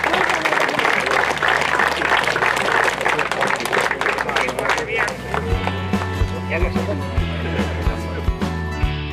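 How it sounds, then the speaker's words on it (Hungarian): Applause and cheering for the Gödöllő Forestry team after a park forest competition in Pilis: dense, loud clapping for about five seconds, then thinning and giving way to steady tones and low thumps. "Nagy tapsot nekik!"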